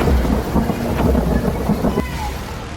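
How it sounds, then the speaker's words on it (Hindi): Heavy rain pours during flooding in Kathua, Jammu and Kashmir, a loud dense roar with deep rumbles of thunder rolling underneath, close and continuous throughout. "जम्मू कश्मीर के कठुआ में तेज बारिश कहर बनकर बरस रही है।"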